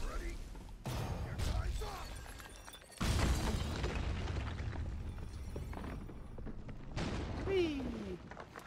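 Explosions in the action game Stranger of Paradise: Final Fantasy Origin, several heavy booming blasts in sequence, each a sudden loud burst that rumbles and decays, mixed with combat effects.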